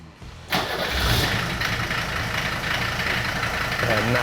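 An old diesel G-Wagon from before Mercedes cranks and catches, then settles into a loud, clattering idle close to the microphone, with a brief voice heard near the start.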